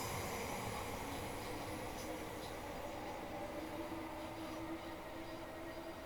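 In Train Simulator Classic, a Class 455 electric train creeps slowly forward on the South West Main Line. A low, steady rail rumble and hum runs throughout at a moderate, unchanging level, with no talking.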